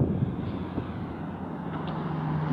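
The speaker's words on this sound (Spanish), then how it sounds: "Estamos tomando en estos momentos un helicóptero que va saliendo del aeropuerto." Helicopter departing an airport, heard from a vehicle bridge over a river as a steady low engine and rotor drone, moderately loud and continuous, mixed with broadband wind and traffic rumble.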